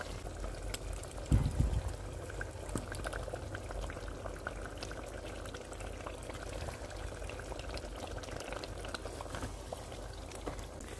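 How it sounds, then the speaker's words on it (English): Nigerian beef stew with fried beef simmers quietly in a pot, a soft, continuous bubbling with one brief louder scrape or clunk of stirring near the start. "Now we just have to stir to get everything combined in."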